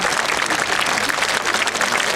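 Dense, steady applause from an audience at an outdoor Requiem performance on Krakowskie Przedmieście, continuous and fairly close with no speech.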